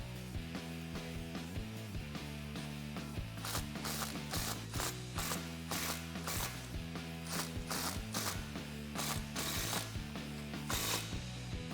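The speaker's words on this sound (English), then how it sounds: "And then we can tighten these down with that 9/16 inch socket." A ratchet wrench with a 9/16 inch socket tightens bolts on a Rough Country Dual Performance 2.2 steering stabilizer fitted to a Jeep Wrangler JK, giving close, loud bursts of rapid clicking in a repeating back-and-forth rhythm.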